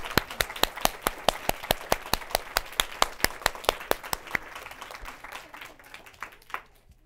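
A school audience at an elementary school claps in a steady, rhythmic unison beat for about four seconds, then the claps loosen and scatter with some cheering before fading out.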